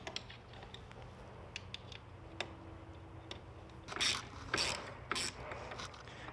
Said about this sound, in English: just to hold the ratchet in place and turn the screwdriver